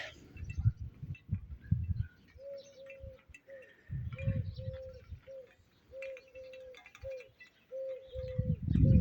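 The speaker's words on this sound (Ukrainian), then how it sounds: "Зозуля." A cuckoo calls in a southern garden, repeating its two-note cu-koo steadily at a moderate distance, with close rustling and handling noises in between.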